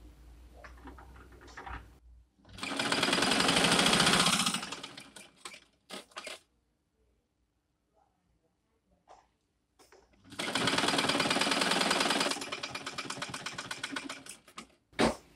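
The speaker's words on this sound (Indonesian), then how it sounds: "nanti setelah kita jahit sisi pinggir-pinggirnya baru kita balik untuk langsung dijahit full semua pinggir-pinggirnya" A sewing machine stitching the edges of a cloth mask made from leftover fabric, with two loud sustained runs of rapid whirring separated by quiet gaps and small clicks of handling.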